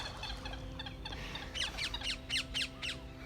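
Ducks calling in a quick series of squawking, quacking bursts, fairly close and loud, over a steady low background hum.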